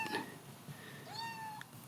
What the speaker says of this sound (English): What a cute little cat.